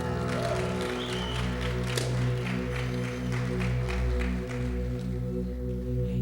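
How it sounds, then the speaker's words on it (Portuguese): A church congregation applauds for a baptism, a scattered run of claps beneath a sustained electronic keyboard chord that fills the room at moderate volume. "Uma salva de palmas para o nosso batismo."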